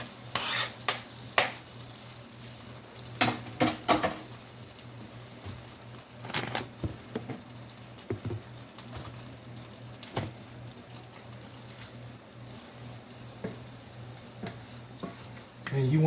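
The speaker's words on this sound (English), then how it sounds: "All right, so I'll go ahead and add in my onion." Chopped onion sizzles in a pan on the stove while being stirred, with soft frying hiss and several sharp scraping, clinking spoon strokes against the pan that come in bursts.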